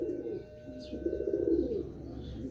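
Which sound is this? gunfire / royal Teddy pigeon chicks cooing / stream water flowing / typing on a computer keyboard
royal Teddy pigeon chicks cooing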